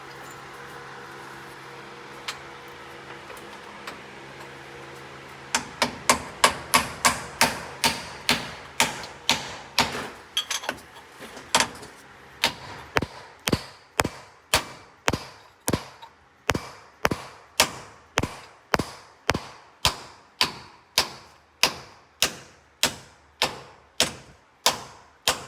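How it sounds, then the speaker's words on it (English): New kingpin bushings being hammered into an MCI bus axle, a long run of sharp metallic strikes at a steady, brisk rhythm, close and loud, following a quieter stretch of shop noise. "Putting the new bushings in."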